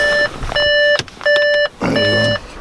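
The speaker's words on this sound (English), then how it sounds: "beeping because the ignition's on" Three evenly spaced electronic chimes beep loudly and close, an Audi TT ignition-on warning repeating in a steady rhythm.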